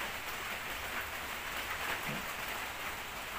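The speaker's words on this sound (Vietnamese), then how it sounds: "Tại hồi sáng giờ mưa quá trời luôn anh em, nên coi mưa nè." Rain falls steadily outside, a moderate, even hiss of drops spread across the whole stretch with no voices over it.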